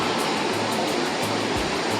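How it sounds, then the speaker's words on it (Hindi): Water flowing loudly near a temple in Mangalore makes a dense, steady rushing roar that fills the scene at close range, with no voices. "पानी का फ्लो, बहुत आवाज़ है उसका"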